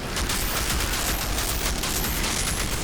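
Deployed turrets in the video game Outriders fire continuously, a dense, loud, rapid stream of gunfire with no pauses.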